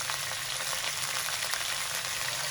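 Chicken sautéing in a pan with ginger garlic paste, salt and turmeric gives a dense, continuous close sizzle that holds steady throughout, with no talk.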